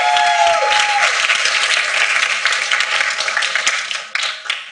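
Loud, dense audience applause at a graduation ceremony after a guitar performance, many hands clapping steadily, a fading sustained tone at the start, and the clapping gradually thinning toward the end.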